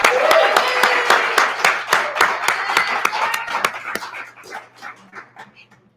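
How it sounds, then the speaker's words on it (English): Scattered, sharp hand claps from a small audience greeting a storyteller coming to the stage at a storytelling fundraiser, starting brisk and thinning out toward the end. "give them a huge round of applause"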